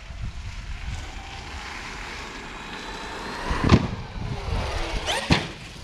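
A Traxxas XRT RC monster truck speeds toward a ramp and jumps off it. A whirring motor runs under rushing wind noise, with two sharp impact bursts as it lands.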